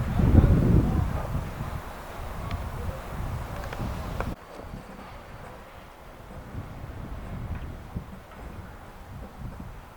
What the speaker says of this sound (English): if you like that ambient wind noise, you're going to get a lot of it today